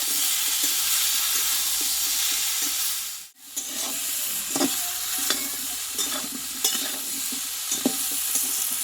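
Potato pieces sizzle as they are slowly sautéed in oil in a pan for a Bengali vegetarian raw banana dish, making a steady close frying hiss with scattered soft stirring scrapes and one brief dip in the middle.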